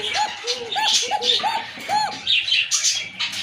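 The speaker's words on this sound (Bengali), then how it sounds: "এটা কিন্তু অরিজিনাল আপনার বাসিরাজ কবুতর, ঠিক আছে। এটা যদি আপনারা শুনলেন দেখেন, হ্যাঁ, আরও ডাকবো" Basiraj pigeons calling up close in a breeding loft, with a run of repeated rounded coos and cooing phrases over several seconds, alongside scattered higher chirps from other birds.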